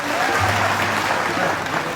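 A large outdoor crowd at a Jharkhand Mukti Morcha election rally applauds steadily and densely, with dense, continuous clapping filling the whole stretch.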